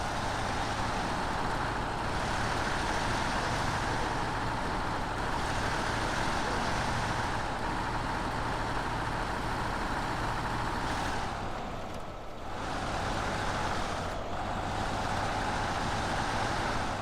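Pac Lunx truck mod climbing a steep hill in the SnowRunner video game, a steady loud diesel engine drone that holds throughout with a brief dip near the end.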